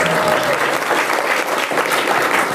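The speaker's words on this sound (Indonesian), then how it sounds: "Tepuk tangan buat Kak Adifa." Crowd of campers clapping at a motivational event in an Indonesian Islamic boarding school setting, a dense, even burst of applause sustained throughout without speech.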